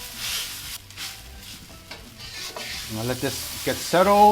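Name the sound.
egg noodles cooking in a pan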